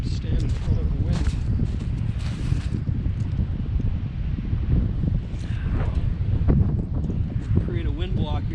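Strong gusts batter the microphone at a windy winter campsite, rumbling and roaring in uneven surges for several seconds.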